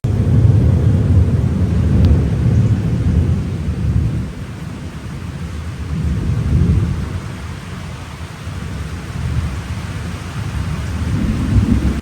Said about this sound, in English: But this is the storm we're in right now